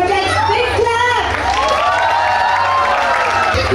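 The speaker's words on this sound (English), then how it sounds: "Big clap!" Loud crowd at a fashion luxury event claps and cheers steadily, with high children's shouts and whoops layered over continuous applause from start to finish.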